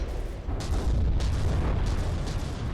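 Shell volley striking enemy ships in the naval combat game From the Depths, heard as a dense, continuous low rumble of booms with several sharper impacts bursting through, loud and without speech.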